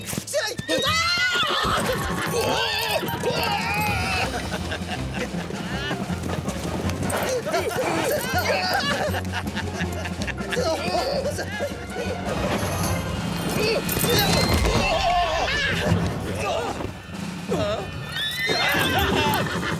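Horses neigh and whinny repeatedly in an animated Zorro adventure scene, loud and close, with hooves clip-clopping amid a busy ambush and voices shouting over the commotion throughout.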